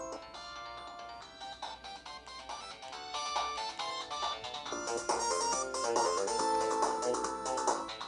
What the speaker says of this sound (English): Let's just try one more test, the Sonic the Hedgehog 2 intro music.